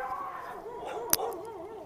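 A pair of dogs barking and yipping outdoors, a few sharp yelps and whimpering tones over background noise, one loud bark standing out near the middle.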